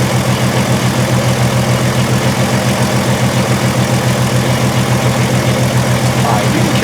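A 2002 Volkswagen Jetta VR6 with an injector circuit fault runs with a misfire, a loud, close engine with an uneven, pulsing low rhythm continuing steadily throughout.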